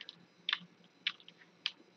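Sparse keystrokes on a computer keyboard, three or four distinct clicks spaced about half a second apart, close and quiet with no voice.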